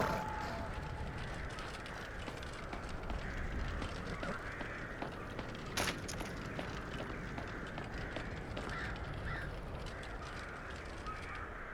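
Black crows from a Skyrim mod caw faintly in the distance around the city of Windhelm, a few scattered calls over a low, steady ambient game background.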